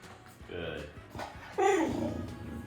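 A Great Dane puppy whines and yips in short, thin, high bursts, close by, with a louder whimper toward the end over a quiet room.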